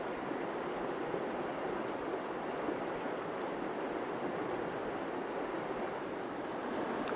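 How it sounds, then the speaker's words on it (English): A brook running high after heavy rain, a steady, even rush of water heard from a little distance, continuous and moderately loud with no voices or other sounds. "So this is how much the brook can change around here after a big rain. Look how much water is running through down there now."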